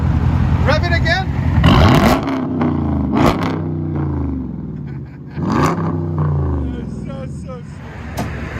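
Dodge Challenger Scat Pack with a 6.4-litre HEMI V8 and true dual straight-pipe exhaust, revved repeatedly up close, with rising and falling roars and throaty burble in between; voices speak over it.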